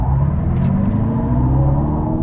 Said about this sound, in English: So we're gonna show the whole thing that we did to try to get it to launch and do a little bit of a burnout